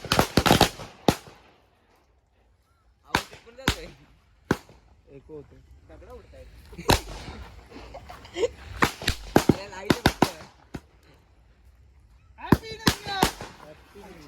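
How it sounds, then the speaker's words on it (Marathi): Firecrackers burst on New Year's Eve in a string of sharp, loud cracks and pops, some single and some in quick clusters, with people talking and shouting between the bangs. "फटाके कुठे"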